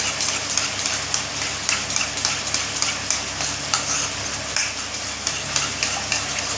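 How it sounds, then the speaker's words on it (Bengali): Yogurt being beaten in a bowl for a vegetarian doi potol curry, with a steady scraping, stirring rhythm of repeated soft strokes, close and continuous with no talking. "দইটাকে ভালো করে ফাটিয়ে নিচ্ছি।"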